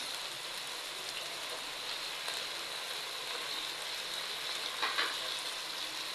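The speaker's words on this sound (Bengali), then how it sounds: "ভাজা ভাজা করে নেব।" Onion frying with ginger, garlic and cumin paste gives a steady, moderate sizzle with light crackle and a few brief stirring scrapes, with no talking.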